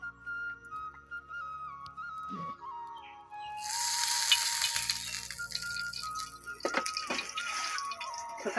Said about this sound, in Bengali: তো কালি জিরা ফোড়ন দিলাম,